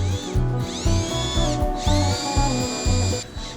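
Power drill boring a hole in steam-bent white wood, motor whining in repeated short bursts that rise and fall in pitch, close and loud.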